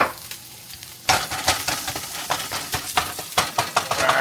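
Burger patty meat sizzles and fries in an oiled wok, starting after a quiet moment with a loud burst of crackling, then a steady hiss broken by repeated scraping stirs and spatula knocks.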